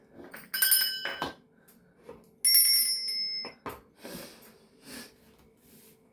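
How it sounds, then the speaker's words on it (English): Small hand bells are rung to cleanse a room during a spiritual session, two bright ringing strikes with shimmering decay, close and fairly soft, amid breathy rustling and quiet handling noises. "I'm going to ring my bells just to cleanse the space around us."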